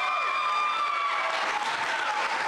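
Applause from an audience at a Pinellas County Job Corps Center 50th anniversary ceremony, a continuous wash of clapping that swells slightly in the second half, heard alone without talk.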